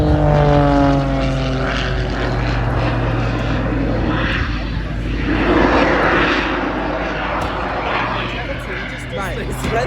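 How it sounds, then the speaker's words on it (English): Propeller aircraft engines roar loudly at full power at the Southport Airshow, a dense droning rumble with a falling pitch as the plane passes close by, while people talk nearby. "All engines on full power there."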